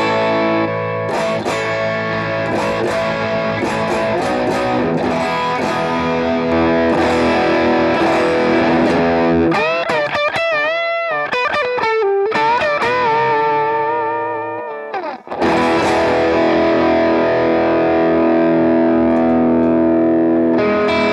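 Electric guitar played through a BOSS GT-1000 amp model with a Two Notes DynIR cab, loud and heavily distorted, with sustained chords, a busier bending passage midway and a brief drop before strumming resumes, no talking.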